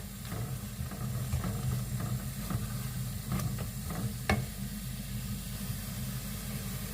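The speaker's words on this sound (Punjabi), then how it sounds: "ਲੂਣ ਨੂੰ ਚੰਗੀ ਤਰ੍ਹਾਂ ਦੇ ਨਾਲ ਮਿਕਸ ਕਰ ਲੈਂਦੇ ਆ" Salt and garam masala are stirred into a sweet-and-sour mint chutney, with a spoon scraping and tapping in scattered strokes over a steady low hum and faint hiss, and no voices.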